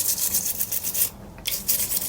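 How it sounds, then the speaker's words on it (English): A nylon brush scrubs rust off the metal handle of an HMV Model C1-81 record player, close and loud with quick rhythmic back-and-forth strokes and one brief pause. "the rust just scrubs off with a brush, leaving a, I suppose a dull metal finish"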